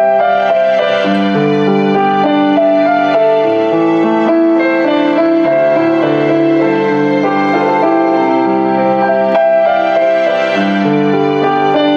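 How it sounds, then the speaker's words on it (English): Roland GP3 digital piano with piano and strings sounds layered together, playing sustained chords and a flowing melody at full, even volume throughout, with no voice. "You can layer two sounds together as well, so I could pick two like that, and you get piano and strings."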